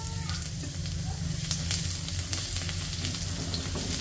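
Garlic drops into hot oil, already used for frying squid balls and kikiam, and sizzles steadily and evenly, with a few soft stirring clicks under the continuous frying hiss.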